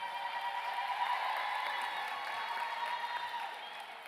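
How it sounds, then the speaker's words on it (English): A hall full of people applauds graduates at a university graduation ceremony on the Mahikeng campus, a dense, steady wash of clapping that holds throughout and fades slightly at the end. "May we all give them a round of applause and welcome them."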